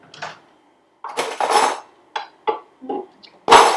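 A spoon scrapes and clinks in a bowl while brown sugar is stirred together, a string of short, close, irregular knocks and scrapes with brief gaps between them.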